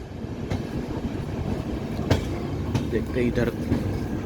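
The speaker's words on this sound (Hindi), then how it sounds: "हम लोग फिर से लूप लाइन में आ गए क्रॉसिंग के लिए गोवा एक्सप्रेस के साथ।" Inside a passenger train, a steady rumble with a few sharp clanks is heard as the train waits or creeps on a loop line near Desur, past Belagavi, for the Goa Express to pass. Someone speaks briefly.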